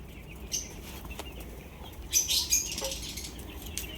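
Large paired birds fluttering in a newly built aviary cage, with soft bursts of wing flapping and a few faint chirps against quiet background.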